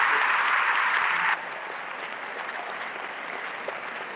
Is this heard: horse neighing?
no